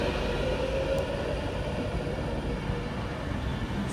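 A Class 390 train at Wigan North Western station gives a steady, loud, broadband rumble that holds evenly throughout, with no voices.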